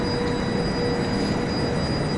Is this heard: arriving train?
yes